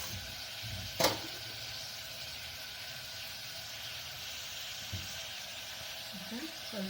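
Onions frying in oil with tempering spices for a stuffed brinjal dish, a steady broadband sizzle throughout with one sharp clink near the start and a faint scrape later.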